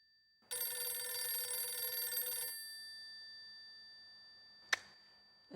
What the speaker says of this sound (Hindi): मेरे कान नहीं बज रहे हैं, फोन बज रहा है, सुनिए